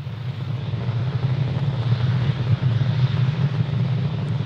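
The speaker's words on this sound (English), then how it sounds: "Falcon 9 has cleared the tower, and we're currently throttling down in preparation for max Q" A SpaceX Falcon 9 rocket roars steadily during launch, a loud, dense rumble with heavy low end that continues unbroken, with no talking.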